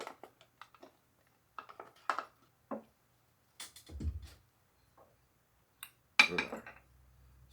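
Scattered clinks and scrapes of utensils against plates and pans as pork is dished out, close by and intermittent, with a soft thud and a louder clattering scrape near the end.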